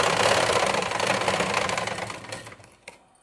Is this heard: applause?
no